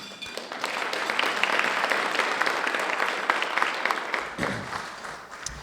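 An audience at a leadership awards ceremony applauds steadily, a dense wash of many hands clapping that swells and then begins to thin out near the end.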